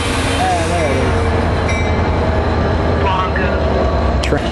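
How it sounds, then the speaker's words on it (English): An NJ Transit or Metro-North train rolls past with a loud, steady rumble of wheels on rails and a faint squeal near the end, while people talk close by. "Train."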